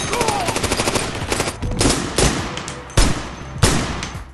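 Very loud gunfire from the action film City Hunter, rapid automatic bursts rattling densely at first, then heavy single shots and echoing reports, with no voices.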